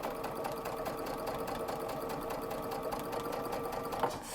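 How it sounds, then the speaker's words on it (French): A sewing machine stitches a reversible fabric lid cover in a steady, fast mechanical rattle, close and continuous throughout, with a brief bump near the end. "Stop, on va faire 2-3 points de couture en arrière"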